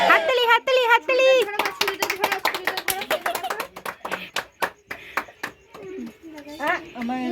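Clapping at a child's birthday celebration, a run of sharp hand claps mixed with excited children's voices and adult chatter, close and lively after a sung birthday song.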